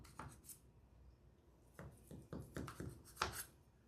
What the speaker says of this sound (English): Cutting the lasagna.